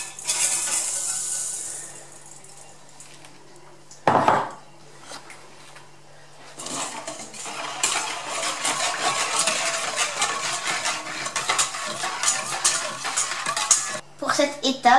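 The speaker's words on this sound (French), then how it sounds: "Mélangez la soude caustique à l'eau." Caustic soda is stirred into water in a container, producing a steady scraping and clinking of a utensil against the vessel, fairly close, with a brief louder knock partway through.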